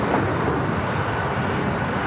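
A Boeing 787 Dreamliner on approach to land on runway 25 right at LAX, heard as a steady, broad jet engine roar that holds loud and constant throughout, with some wind noise mixed in.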